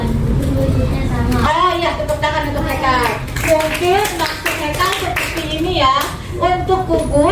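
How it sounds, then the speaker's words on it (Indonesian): Children in a classroom clap together in a dense, sustained burst under a teacher's lesson, with kids' voices and the teacher's speech running over the applause throughout. "tepuk tangan untuk Hekal"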